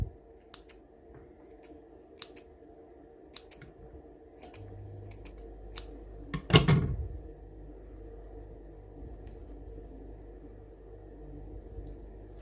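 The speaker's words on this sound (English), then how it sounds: "just with my scissors, I'm just going to trim around" Scissors snip around a sheet of cupcake icing in a series of light, crisp clicks, close and quiet, with one louder handling bump partway through.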